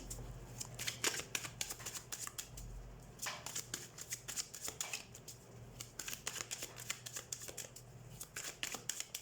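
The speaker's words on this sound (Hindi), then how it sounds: "तो let's shuffle your cards Virgo." Tarot cards shuffled by hand, a rapid run of crisp riffling flutters and light taps in irregular bursts, close and fairly quiet with a low steady hum beneath.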